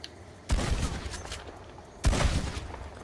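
A pump-action shotgun in Red Dead Online fires two loud, booming shots about a second and a half apart, each followed by a short rumbling tail.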